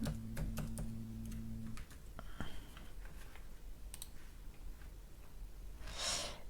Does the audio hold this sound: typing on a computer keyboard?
yes